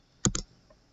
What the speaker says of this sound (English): So I'm going to go back here and type in 5. I hit enter.